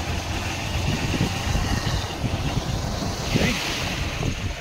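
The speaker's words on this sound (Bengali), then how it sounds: "রাস্তার তলা দিয়ে জল বেরোচ্ছে, যে কোনো সময় রাস্তাটা ধ্বংস হয়ে যাবে।" Floodwater from the Rupnarayan river rushes out beneath a road in a continuous loud roar, with gusty wind buffeting the microphone and no talk.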